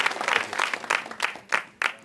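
Studio audience applauding on a comedy show stage, a burst of clapping lasting about two seconds with several louder surges toward the end.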